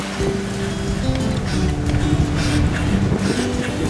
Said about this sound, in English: just motor sailing with the head sail and one engine going